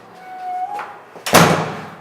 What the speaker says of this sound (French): je referme la porte